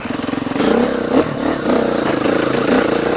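Motoes 350 dirt bike engine with changed gearing and clutch weights runs close and loud, a low throbbing idle that rises into several short revs.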